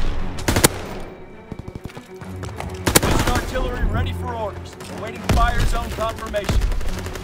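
MP40 submachine gun firing in Call of Duty WW2, sharp bursts of automatic gunfire against a busy battle backdrop, with game radio voices talking in between.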